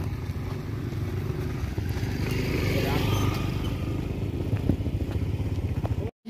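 A motorcycle is ridden on a long road trip, its engine droning steadily with road and wind noise and occasional clatter, and faint voices underneath.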